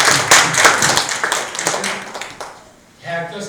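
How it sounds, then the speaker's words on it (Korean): An audience claps at a regional humanities lecture: a dense burst of hand claps rises near the start and thins out over a few seconds, mixed with a speaker's voice, before a brief quieter stretch and more talking. "박수."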